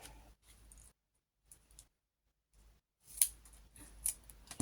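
Scissors make quiet, crisp snipping sounds as they cut a piece of double-sided tape in two, with short clicks and rustles among pauses, then a louder cluster of snips near the end, all without speech.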